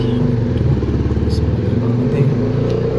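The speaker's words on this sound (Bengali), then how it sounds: "বাইকের শব্দটা আসলে মারাত্মক লেভেলের ফিলস লাগে" Motorcycle engine rumbling steadily at close range on an early-morning road, a loud continuous low throb with a faint voice mixed in.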